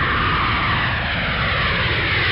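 A fixed-wing airplane, nicknamed the pork blaster, drones steadily overhead for the whole stretch, a broad continuous engine roar with no voices over it.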